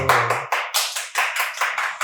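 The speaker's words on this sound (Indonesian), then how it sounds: "Tepuk tangan dong." Hand clapping during a podcast, a short burst of about ten sharp, evenly spaced claps, close and loud, following a brief spoken word at the start.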